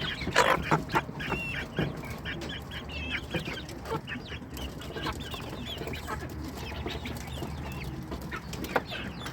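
Ducks and chickens at feeding time, crowded close together, clucking and quacking in a busy, overlapping chorus with sharp bursts near the start and a steady flock murmur throughout.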